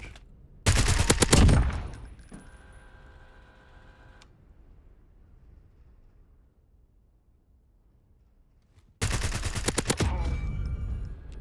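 Bursts of rapid automatic gunfire on the firing range in the video game Warzone, a loud volley at the start, a brief mechanical clatter, a quiet pause, then another loud sustained burst at the end.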